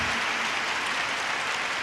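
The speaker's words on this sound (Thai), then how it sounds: "ช่วยลุกขึ้นยืนรับเสียงปรบมือนะคะ" A crowd gives a standing ovation at an awards ceremony, a dense even patter of many hands clapping throughout, with no voices over it.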